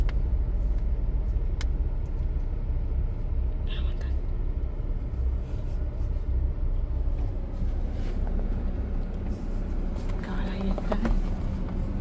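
A car pulling out of a parking spot, a continuous low engine rumble heard from inside another vehicle, with people talking quietly throughout.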